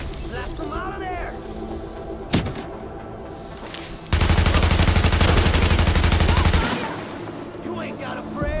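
Sustained automatic gunfire in the shooter game Tom Clancy's The Division, a loud dense burst of rapid shots lasting a few seconds after a single sharp shot, with game music and a voice around it.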